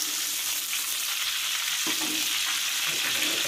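Shrimp fry in hot oil with a steady, close, continuous sizzle, broken by a few soft stirring scrapes, with no voices.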